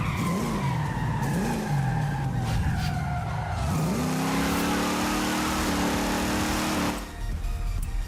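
A Forza Horizon 5 car does a burnout, its tires squealing and skidding in shifting pitch as the engine revs, then holding a steadier screech before cutting off near the end.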